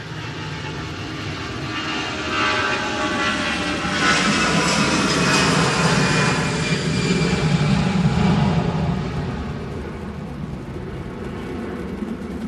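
An EasyJet airliner bound for Gibraltar rumbles and roars steadily at Manchester Airport amid storm crosswinds, a loud broad wash of engine noise that swells toward the middle and eases off slightly near the end.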